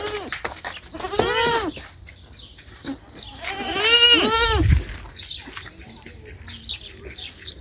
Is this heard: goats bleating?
yes